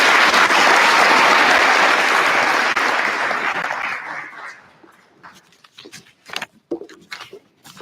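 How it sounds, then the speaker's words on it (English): Applause from an audience at a high school senior academic awards ceremony for award recipients, loud and sustained for about four seconds, then fading into scattered individual claps and quiet room noise. "Have a round of applause for our recipients."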